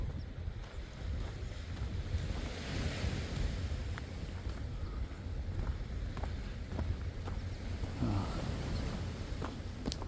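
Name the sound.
ocean waves at Pemaquid, Maine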